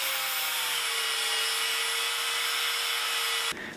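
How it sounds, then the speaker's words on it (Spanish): A power tool with a flap sanding disc whines continuously on steel at close range, a steady hum and bright grinding hiss, then cuts off suddenly just before the end. "Y luego con un disco de lija flap."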